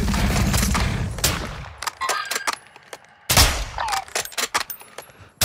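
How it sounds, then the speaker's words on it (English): Video game gunfire comes in bursts of sharp, loud shots and rapid volleys, with short gaps between them. "You are taking effective fire."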